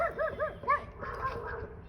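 Several dogs barking and yipping in short, arched bursts close by during a snowstorm in Georgia, a quick run of barks followed by softer whimpering yips.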